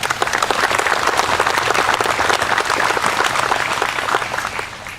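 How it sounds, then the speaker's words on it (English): A Memorial Day ceremony crowd claps loudly and continuously in dense, even applause that fades slightly at the end. "give yourselves a round of applause for being here today"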